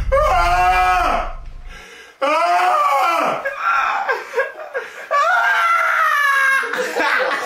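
A boy lets out long, loud vocal screams in bursts with short breaks between them, delivered as the punchline of a knock-knock joke during a family dad-joke challenge.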